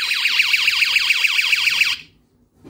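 A laser security system's alarm siren, triggered by an Arduino GSM setup, wails loudly in fast rising-and-falling sweeps for about two seconds, then cuts off abruptly into near silence.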